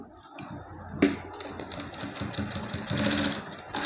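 A sewing machine stitches a tassel onto a blouse in short bursts of rapid mechanical whirring and needle clatter, running close and moderately loud with brief pauses.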